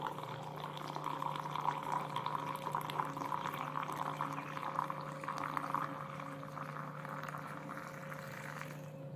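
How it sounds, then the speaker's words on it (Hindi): Milk poured from a height onto chocolate coffee makes a quiet, continuous trickling stream over a faint steady hum. "ये देखिए अब मैं इस पर ऊपर से थोड़ा सा ऊंचाई से दूध डालूंगी ताकि इसमें फ्रॉथ बने"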